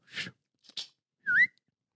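A person whistles the Fantastic Mr. Fox tune in three short bursts close to the mic: two breathy, airy notes and then a clear, bright rising note, with silence between them.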